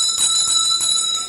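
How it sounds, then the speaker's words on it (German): A bright handbell rings steadily and loudly, its shimmering tone sustained with gentle pulsing strokes, used as a signal on a 1986 German television game show, with no voices over it. "Und immer wenn Sie diese Glocke hören"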